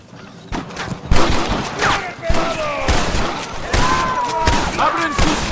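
Gunfire in the PS3 western shooter Red Dead Redemption, a dense fusillade of close, loud shots in quick irregular bursts, mixed with shouting voices and game effects.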